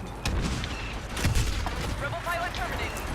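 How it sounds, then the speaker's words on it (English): Turret gunfire in the Star Wars Battlefront beta on PS4, with booming shots and scattered blasts within a dense battlefield din while someone talks over it. "So I'm taking some shots from that turret over there."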